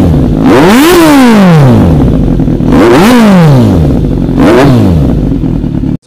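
A Kawasaki Z900 superbike is revved hard three times, each throttle blip rising sharply to a high wail and falling back to a lumpy idle, loud and close with slight room echo.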